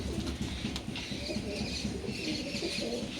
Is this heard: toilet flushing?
no